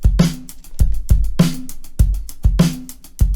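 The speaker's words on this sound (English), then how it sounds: "I'm going to load up a drum loop. It just sounds like this." A drum loop played alone ahead of processing with the Output Portal granular effects plugin: punchy kicks and snappy hits in a steady, repeating groove, loud and close with no talk.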